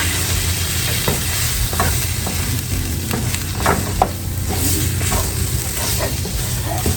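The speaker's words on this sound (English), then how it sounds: "we're going to go ahead and stir that around" Ingredients stirred in a hot pan of frying food for smothered short ribs, a steady close sizzle with intermittent scraping and clinking of the utensil against the pan throughout.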